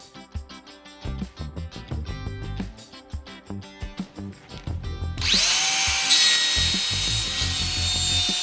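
Power saw cutting marked plywood pieces for closet shelves: several seconds of knocking and tool handling, then a loud, steady, bright whine as the blade runs through the sheet, sustained to the end.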